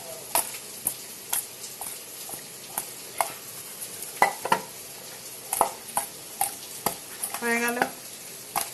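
Food frying in a pan on a home stove, with sharp intermittent scrapes and taps of a metal spatula stirring and lifting it over a steady sizzle; a brief voice speaks near the end.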